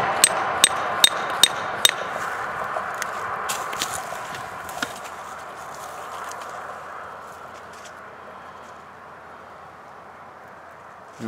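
Rock hammer striking roadside rock while collecting garnets, about six sharp ringing blows in a quick series at the start followed by one more, then quieter scraping and rustling outdoors.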